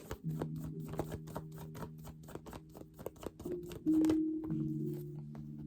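Tarot cards are shuffled in quick repeated riffles and taps, close and fairly quiet, over a sustained tonal hum.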